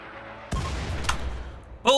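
Single gunshots from the RimWorld colony game, a few sharp bangs spaced apart, each followed by a low rumbling tail, over a quiet background with a louder burst at the end.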